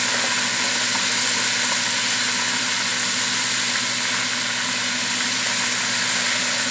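Gator tenders frying in hot oil give off a loud, steady, dense sizzle and hiss that fills the whole stretch without a break, close up and with no voices.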